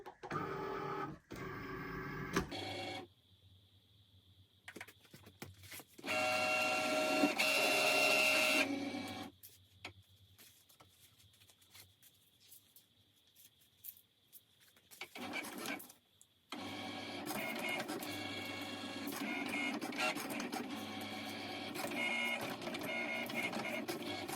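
A Cricut cutting machine works through a sheet of vinyl with intermittent whirring motor runs and faint mechanical shuttling, separated by quiet gaps, heard close up.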